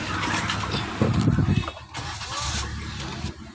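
A petrol Maruti Swift BS6 hatchback, set for CNG kit fitting, cranks and starts, then settles into a steady low idle close by, with a brief surge around the start.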